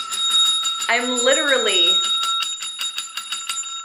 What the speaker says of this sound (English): ringing a bell, because that is how real that quote is